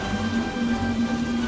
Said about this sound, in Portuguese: É só uma chuva muito forte.